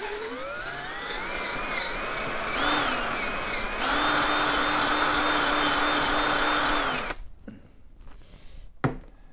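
A loud, steady electric drill whine runs for about seven seconds while sanding aluminum on an air compressor part, its pitch shifting slightly, then cuts off, leaving a few faint clicks and knocks.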